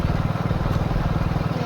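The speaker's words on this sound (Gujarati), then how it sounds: "આમાંથી ટ્રેક્ટર આવે છે તો તમને બતાડું તો આવે છે ટ્રેક્ટર એક" A tractor engine comes closer with a rapid, pulsing low chug that stays loud and near throughout.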